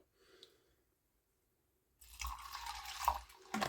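Lemonade pours into an azalea cocktail in a glass, a close, gurgling stream of liquid that starts after a moment of near silence and keeps running.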